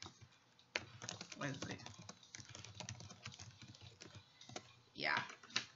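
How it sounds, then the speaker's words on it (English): Someone types on a computer keyboard in irregular soft clicking patters, close and quiet, with a voice briefly speaking near the end. "I have to type what I actually said, because I don't know."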